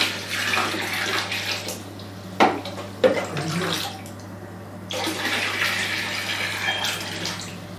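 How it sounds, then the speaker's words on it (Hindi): Water poured into a basin for a warm-water foot soak: a steady splashing pour, then a couple of sharp knocks and a pause before the pouring resumes, loud and close, with no voices. "एक बार फिर पानी डालेंगे।"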